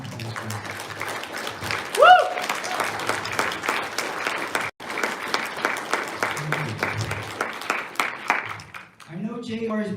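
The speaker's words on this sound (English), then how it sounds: "Please stand up for a round of applause." Audience at a campaign fundraiser at the Westfields Marriott applauding, a sustained burst of clapping with voices and a microphone speaker mixed over it.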